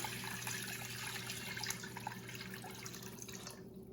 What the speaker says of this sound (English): I'm going to go ahead and make sure the water covers the turkey.